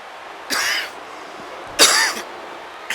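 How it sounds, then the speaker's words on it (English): Two short coughs close to the mic with a pause between them, followed by the start of a third, over a quiet background. "I guess I'm still suffering from that cough myself."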